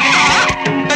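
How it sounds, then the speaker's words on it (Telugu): A sudden hard brake with a sharp tire skid as a movie sound effect: one loud, close screech lasting about a second with a harsh squealing tone and no voices. "సడన్ బ్రేక్ పడితేనే"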